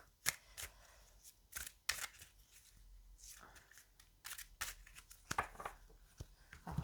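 Tarot cards being shuffled by hand, a run of crisp riffling flicks and soft slaps in irregular bursts, close and fairly quiet, with no one talking.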